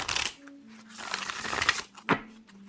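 Tarot cards are shuffled with soft riffling and papery flicks, ending in a sharp tap. A voice hums or speaks quietly underneath.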